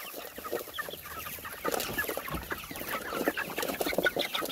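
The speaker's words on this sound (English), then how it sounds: "You want some food? There you go, chickens." Chickens raised for meat cluck busily and excitedly while being fed an extra meal, a dense, continuous chorus of overlapping clucks and squawks close to the listener.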